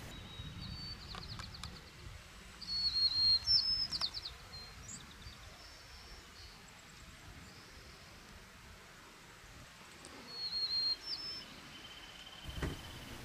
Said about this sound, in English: one of the most common bird songs you'll hear in the Point Reyes campgrounds is the song of the white-crowned sparrow